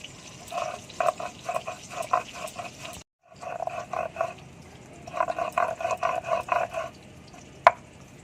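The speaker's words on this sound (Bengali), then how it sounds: "এদিকে সরষে আর পোস্ত বেটে নেবো" Mustard seeds and poppy seeds ground into a paste, giving rhythmic grating strokes in steady bursts, with a short pause and a sharp knock near the end.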